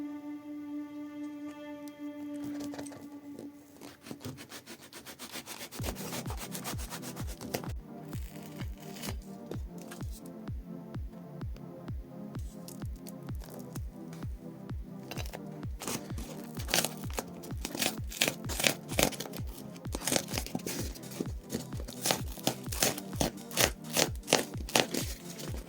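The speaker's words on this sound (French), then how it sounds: "Donc on va creuser." Tool scraping and digging into the substrate of a planted terrarium, a dense run of short, crunchy, gritty strokes that speeds up after a quiet start, close and fairly steady, with no voices.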